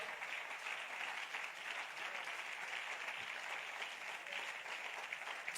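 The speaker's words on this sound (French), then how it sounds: "Je veux que tu acclames très fort avec moi" A church congregation applauds and cheers in a sustained, dense wash of clapping that stays steady and fairly distant throughout, with no single voice standing out.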